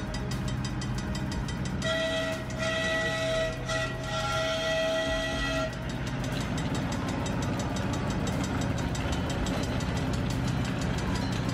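Melody Ranch Special, a miniature train at Travel Town, sounds a sustained horn chord for about four seconds over steady rumbling running noise, which continues alone afterward.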